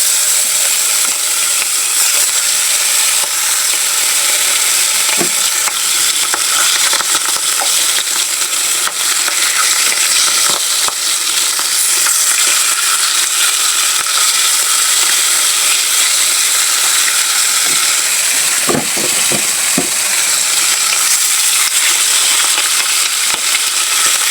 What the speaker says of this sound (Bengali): মাছ ভাজা কিন্তু হয়ে গেছে